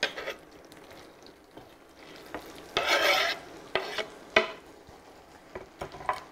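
A finely minced ingredient cooking in a pot while a utensil stirs and scrapes it, sharp clinks and scrapes over a faint sizzle, with louder bursts of stirring partway through.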